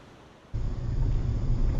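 Strong coastal wind roars across the microphone on the way to Farm Beach on the Eyre Peninsula, a steady low buffeting rumble that kicks in suddenly after a quiet half-second and stays loud to the end.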